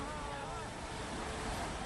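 Monsoon floodwater of the Yamuna river rushing down from the mountains, a dense, steady roar of churning water with wind-like hiss that stays constant throughout.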